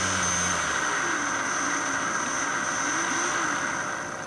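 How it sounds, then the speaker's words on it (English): An electric shunt motor whines steadily with a high, constant tone and a wavering mid hum, slowing as it bogs down under load; heard close and alone. "the motor bogs down and just comes to very nearly a stop"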